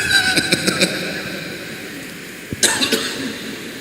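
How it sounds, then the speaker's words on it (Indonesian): An elderly man coughs several times in quick bursts, then once more after a pause, against a steady low background hum. "ngomong dikit batuk nih"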